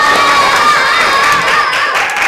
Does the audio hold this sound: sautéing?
no